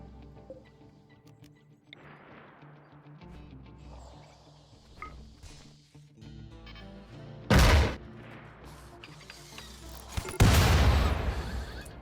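Gunfire from a mounted gun in the colony game Rimworld: a couple of loud, sharp broadband blasts stand out over quieter game sounds, the last followed by a long rumbling decay.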